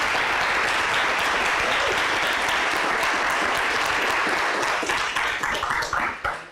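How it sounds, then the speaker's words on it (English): A large audience at a nuclear innovation bootcamp closing event gives sustained, dense applause that holds steady and then thins out into scattered claps near the end. "So maybe we can do another round of applause for all of it."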